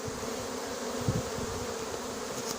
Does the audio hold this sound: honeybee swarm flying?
yes